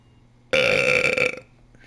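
One loud, abrupt burp rumbles for about a second on its own against near silence.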